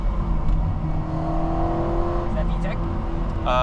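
Engine of a 2008 Honda Civic Si with the K20 motor, a steady loud drone from inside the car that rises in pitch, with people talking over it.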